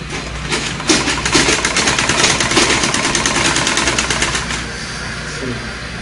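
Sewing machine stitching a pieced skirt, running in a steady rapid mechanical chatter for several seconds, close and loud, then slowing to a stop.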